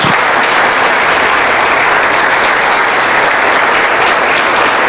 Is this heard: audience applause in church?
yes